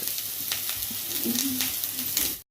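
Onion and grated coconut sizzle steadily in a pan for beetroot kadubu, a dense close frying hiss with faint stirring scrapes throughout.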